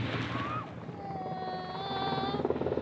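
A military helicopter arrives at a U.S. base for a troop assault demonstration, its rotor chop and turbine whine loud and near over crowd noise, with some voices in the background.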